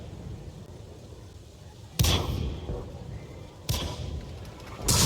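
Tier 3 artillery firing in the World of Tanks game: three sharp, heavy booms spaced about two seconds apart, each with a short rumbling tail over a low, steady background.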